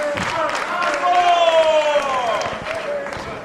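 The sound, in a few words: wrestling crowd cheering and applauding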